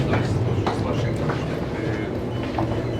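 Russian passenger train rolls along, heard from inside the carriage: a low continuous rumble with soft rhythmic clicks of the wheels, steady and close throughout.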